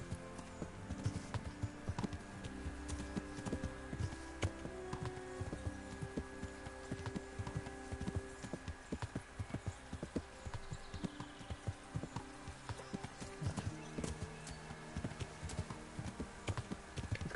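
Horse hooves clip-clop in steady rhythm through the Kingdom Come Deliverance game world, moderately close, over a bed of in-game ambience and background music, with a brief whinny hinted.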